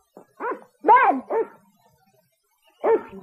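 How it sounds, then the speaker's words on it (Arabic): A dog in a cartoon scene barks several times, clear and close, in a quick group of three yaps followed by a pause and one more bark on a hot day. "كم هو مزعج ان ينبح عليك كلب في يوم حار كهذا"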